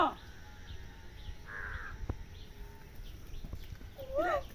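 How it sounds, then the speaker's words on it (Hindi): A crow caws a few times outdoors, short hoarse calls at moderate distance over a steady low background hum and faint ambient noise. "कौवा है पापा कौवा"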